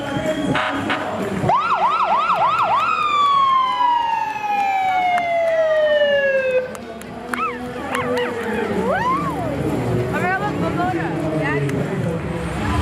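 Ambulance and fire rescue squad sirens sound at a St. Patrick's Day parade, with a rapid whooping burst, then a long falling wail and further rising and falling wails, loud and close over crowd noise.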